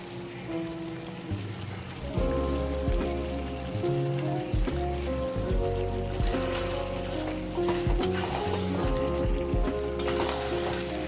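Chicken sautéing in oil in a pan for a chicken curry with peas, a steady close sizzle with scattered clinks and scrapes of stirring, growing louder after the first couple of seconds and continuing throughout without talk.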